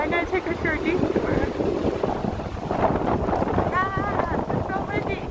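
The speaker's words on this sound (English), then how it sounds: "It's so windy." Strong wind buffets the microphone on a street in Gangnam, Seoul, a steady low rumble filling the whole stretch, with faint voices and city sounds underneath.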